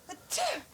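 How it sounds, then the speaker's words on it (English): A single sharp sneeze bursts out after a brief breathy intake, close and fairly loud, then trails off quickly. "Very difficult to do a fake sneeze."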